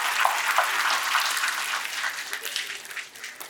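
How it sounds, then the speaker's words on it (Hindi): A large audience at a national theatre festival in Jashpur, Chhattisgarh, claps hard in a dense, continuous wash of applause. It stays loud and even for the whole stretch, easing slightly toward the end. "मैं चाहता हूं एक बार इनके लिए भी आप लोग जोरदार ताली बजाएं"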